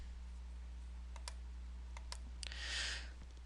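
Two quick pairs of computer mouse clicks, crisp and close, followed by a short soft rush of noise in an otherwise quiet room.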